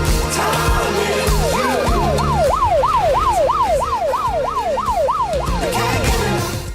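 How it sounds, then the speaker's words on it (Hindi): An emergency vehicle siren wails loudly and continuously, rising and falling in a rapid repeated pattern over road and traffic noise, heard through Samsung Galaxy Buds 3 Pro earbuds with noise cancelling on. "जो सायरन है उसके साउंड को ये मतलब कम नहीं करता है, नॉइस कैंसल आउट नहीं करता उसकी"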